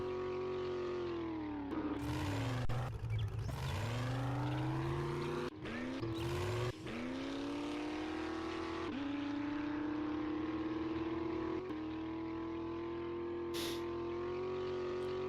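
A loud, droning truck engine roars steadily at high revs, its pitch rising and falling as it revs, with a few brief cutouts and bursts of hiss.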